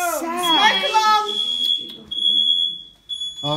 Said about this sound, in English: Oh, smoke alarm!